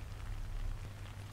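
Gentle rain falls steadily with a soft, even hiss and a low rumble underneath, continuous and fairly quiet, with no voices.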